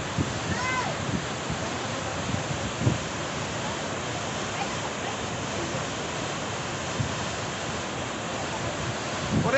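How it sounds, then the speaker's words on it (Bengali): Water spills down from a small pool into a tall mountain waterfall in Sikkim, giving a steady, rushing roar with a faint wind-like hiss throughout. "সামনে একটা ছোট্ট জলাশয় রয়েছে, সেখান থেকে জল আবার নিচে নেমে যাচ্ছে।"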